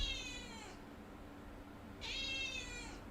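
A house cat gives two drawn-out, high meows with a pause between them, fairly close and clear over faint room noise.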